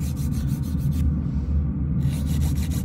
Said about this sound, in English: they give you good control when you're filing